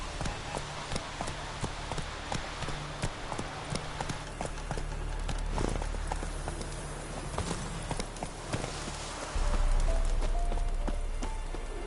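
Hooves clip-clop at a fast galloping rhythm as a horse runs through a video game world, steady and mid-distance over a soft ambient backdrop, with a low rumbling layer rising toward the end.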